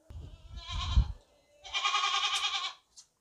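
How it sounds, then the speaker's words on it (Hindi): Goats of a good breed with white eyes and long broad ears, newly brought to a new place, bleat loudly in two long calls, the first over low rumbling handling noise, the second clear and sustained, with a short bleat at the end. "नई जगह पे आई हुई हैं इसलिए थोड़ा शोर कर रही हैं।"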